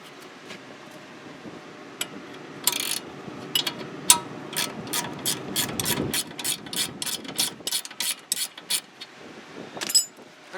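A ratchet loosens a nut on a Honda Civic sway bar, with scattered clicks at first and then a fast, even run of close ratcheting clicks.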